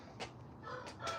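A rooster crows and clucks faintly in the distance, a few short hoarse calls over a quiet background.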